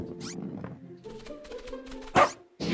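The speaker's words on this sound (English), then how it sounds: "Is that a puppy?" A puppy gives a few short, high yips and barks amid background music, with a brighter burst near the end.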